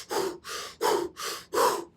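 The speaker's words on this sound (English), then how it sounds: "If we deliberately hyperventilate for long enough," Deliberate hyperventilation: five rapid, evenly spaced breaths, loud and close, each a sharp rushing inhale or exhale separated by brief silences.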